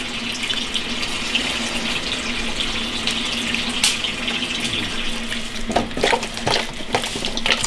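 Water runs steadily from a tap into a sink while raw pork is rinsed for tanzi-style braised pork, a continuous close splashing rush with faint handling noises near the end.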